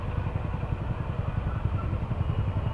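A Honda Pop motorcycle engine running steadily at close range at night in Caruaru, a low, evenly pulsing putter with a faint mechanical clatter and no talk.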